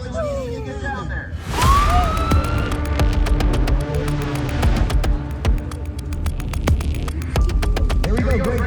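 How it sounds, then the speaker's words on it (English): A wailing ambulance siren rises and holds over loud crowd noise and shouting, with steady pulsing throughout. "The ambulance needs to get down there."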